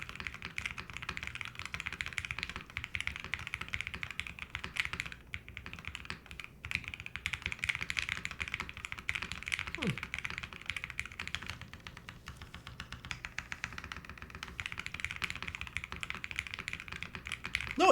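QK75 custom mechanical keyboard typed on continuously at close range, with rapid, even keystroke clicks and a few brief pauses.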